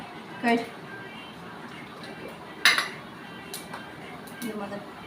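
Peanuts and chana dal being stirred in a hot pan while making vegetable upma, with a few sharp metallic clinks of a spoon against the pan over a quiet kitchen background.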